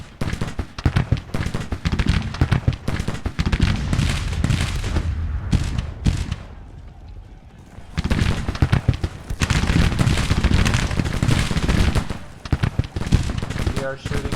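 Musket gunfire in the Civil War strategy game Grand Tactician, Confederate campaign: loud, dense crackling volleys pour almost without pause, ease into a brief lull, then return just as thick, with occasional voices mixed in.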